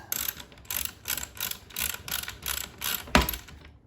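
Ratchet tightening bolts on a Herman Miller Aeron chair during a tilt lock repair, a close, loud rhythmic clicking in about seven even strokes, ending with a sharp knock and no talking.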